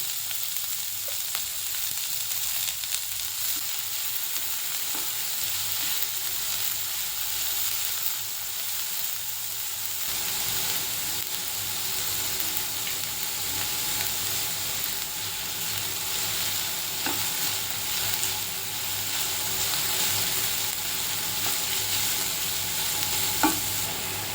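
Finely chopped onion and cumin seeds fry in hot oil in a pan, a steady, close sizzle and hiss running throughout, with occasional scrapes as they are stirred.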